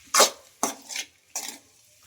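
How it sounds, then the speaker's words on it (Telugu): Boiled potato pieces being stirred in a bowl for rava poori, three separate scraping strokes, close and fairly quiet, with no talking. "ఇంకా ఆలు వేసుకున్న తర్వాత మొత్తం ఒకసారి ఇలా బాగా కలిపేసుకుందాం."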